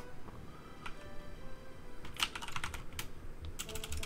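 Rapid computer keyboard typing in bursts of sharp clicks and clacks, close and fairly steady, heard against soft background noise during a RuneScape gameplay session.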